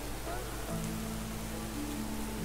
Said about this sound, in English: standing around here all day in the pouring rain